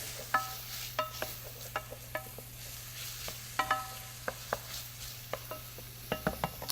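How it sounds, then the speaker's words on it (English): Celery and small diced carrot are stirred in a pan, a spoon scraping and tapping the metal in a quick irregular rhythm over a low steady sizzle, close and fairly quiet with no voices. "Stir that around."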